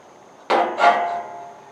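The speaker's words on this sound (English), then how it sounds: "I tapped it with a hole punch to give me a little bit of area there so I can drill" A hole punch tapped into a diamond plate grill hood gives two sharp metallic strikes in quick succession, close and fairly loud, each ringing briefly before fading.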